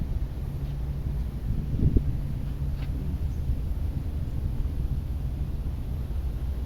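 Steady low rumbling wind noise buffeting the microphone outdoors in Hong Kong, constant throughout with no voices.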